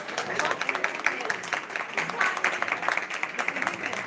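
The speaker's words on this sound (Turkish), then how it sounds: "Burada salonda herkes size alkış." A hall audience at a doctors' gathering applauds, an uneven patter of many claps at a distance, fairly soft, running steadily throughout.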